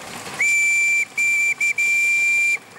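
A steam whistle on a restored steam-powered machine at Tasmania's Steamfest, a loud, steady, high tone sounded in several blasts with short breaks, over faint background hiss.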